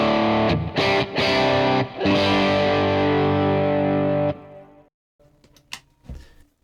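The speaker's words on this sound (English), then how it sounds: "Here's the pedal Black Eye Boost." Electric guitar through a Black Eye Boost pedal: loud, gritty boosted chords ring out and sustain for several seconds, then cut off into a few quieter picked notes and string noises.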